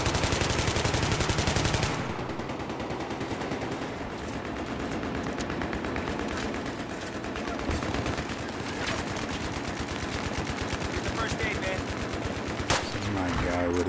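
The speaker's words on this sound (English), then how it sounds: "Heavy machine gun." Heavy machine gun fire in Battlefield 3 on the Azadi Palace map, a loud sustained automatic burst at first, then continuing rapid rattling bursts with battlefield noise and a sharp blast near the end.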